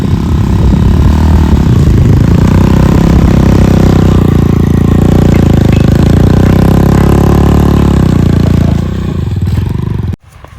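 A motorcycle engine on a farm field runs loud and steady up close, a rough continuous drone that carries on without pause before cutting off abruptly near the end.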